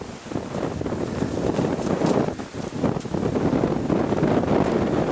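Strong autumn wind buffeting a microphone at a hunting and fishing camp in Yakutia, a constant loud roar with gusty swells throughout.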